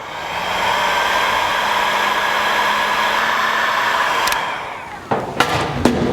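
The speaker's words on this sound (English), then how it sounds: "Use our heat gun to shrink down the heat shrink." A heat gun blows steadily on heat shrink tubing over a crimped connector, a continuous close airy roar with a faint hum that cuts off after about four seconds, followed by a few sharp clicks and taps.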